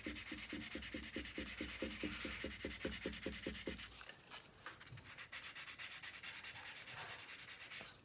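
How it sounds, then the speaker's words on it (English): Sandpaper works over a 1/48-scale plastic model kit in quick, rhythmic back-and-forth strokes, close and light-pressured. The strokes become irregular scrubbing partway through. "I'm not pressing hard. I'm just letting the sandpaper do the work."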